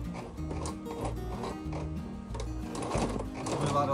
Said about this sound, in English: Okay, so this, I'm gonna stitch this down.